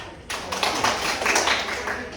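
Classmates clap for a student group in a classroom, a dense burst of many overlapping hand claps that starts abruptly and carries on steadily, close and fairly loud, with a little talk mixed in.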